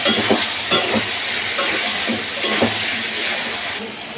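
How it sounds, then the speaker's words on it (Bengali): Fried chicken pieces being stir-fried in spice masala for chili chicken, a loud, dense, close sizzle with repeated spatula scrapes and stirring knocks running throughout. "এবার ভেজে রাখা চিকেনগুলো দিয়ে দেবো। এগুলো দিয়ে ভালো করে কষিয়ে নেব।"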